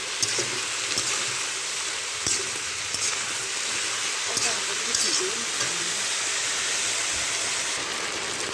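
Ridge gourd fried in a pan with chili powder and salt gives a steady, loud, hissing sizzle with faint clinks of a utensil stirring now and then, close and continuous throughout.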